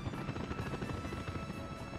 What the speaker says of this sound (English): Helicopter's doing their thing.